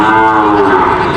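A single loud, deep, drawn-out moo from a large water buffalo, very close and filling the whole moment, at a livestock market in Padre Garcia, Batangas.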